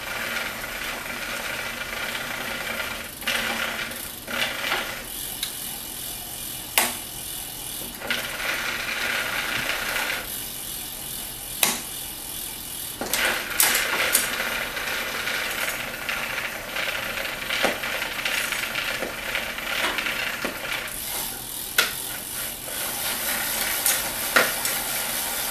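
A bike chain spinning through a plastic chain cleaner makes a continuous ratcheting, gritty whir with a wet fizz. It carries on for about 25 seconds with brief pauses and sharp clicks scattered throughout.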